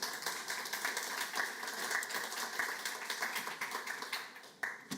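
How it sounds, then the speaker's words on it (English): Faint, steady applause from an audience at a panel event on the race for talent, many hands clapping in a continuous patter at a distance. "A big applause"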